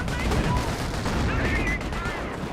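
Vickers machine gun in a Company of Heroes battle, dense sustained automatic fire mixed with other combat noise, loud and continuous with overlapping bursts.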